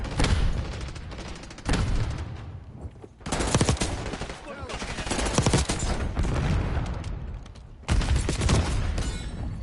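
Shotgun blasts in the Black Ops 6 video game, loud repeated bursts of gunfire in several heavy clusters with brief lulls between, close and dense, with a voice talking underneath at times.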